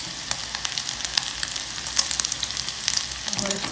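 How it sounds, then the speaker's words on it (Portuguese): Bacon, about a cup, frying in a pan on a home stove, giving a steady close sizzle with scattered crackles and pops throughout and no talking. "aqui eu vou colocar bacon, uma xícara, deixar fritar"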